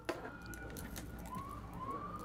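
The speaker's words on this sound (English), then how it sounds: "I don't know if you guys can hear the sirens" A siren wails in the distance, its pitch rising and falling in long sweeps, faint under a steady background hum.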